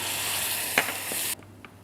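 Snails and a garlic clove frying in oil, with a splash of vegetable stock added, give a steady close sizzle that cuts off abruptly near the end, followed by a couple of faint clicks.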